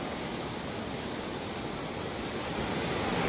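Swollen Gambhir river in monsoon flood, with water rushing in a dense, steady broadband roar and no pauses, fairly loud and close.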